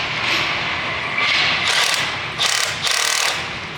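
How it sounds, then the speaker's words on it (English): A tool works bolts loose from an R7 motorcycle exhaust during an install, in several short whirring, ratcheting bursts over a low mechanical hum, close by. "now go ahead and remove those 3 bolts up top there"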